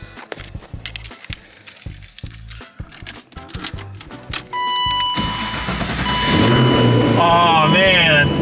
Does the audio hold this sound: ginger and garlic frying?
no